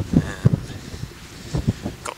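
Gusty wind buffets the microphone on an exposed hilltop at Ivinghoe Beacon, with low rumbling bursts rising and falling in short irregular gusts.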